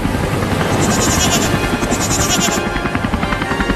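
A goat in a desi comedy sketch bleats in repeated wavering cries over a continuous loud rotor-like rumble, with the bleats fading out toward the end.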